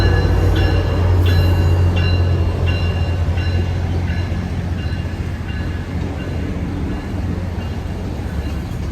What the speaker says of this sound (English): There must be a train coming.